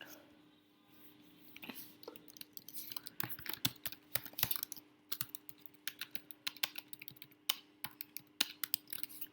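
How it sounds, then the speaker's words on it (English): Fingers type on a computer keyboard in quick irregular bursts of crisp, close clicks and taps, quiet and alone over a faint steady hum. "So after this, let's type"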